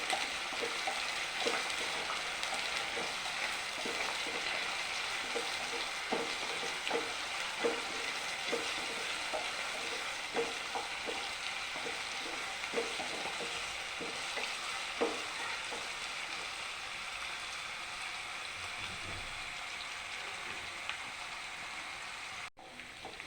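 Green chilli, ginger, curry leaves and garlic sizzle steadily in hot oil for a fish pickle, with quiet stirring scrapes and clicks of a spoon throughout and a soft knock near the end.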